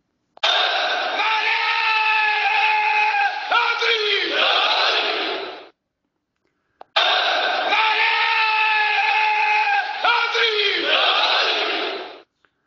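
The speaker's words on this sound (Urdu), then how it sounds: "شرکیہ نعرے سنیے ذرا۔" A crowd led by army chief General Asim Munir alongside Rangers chants slogans in unison, two long loud call-and-response bursts separated by a short pause.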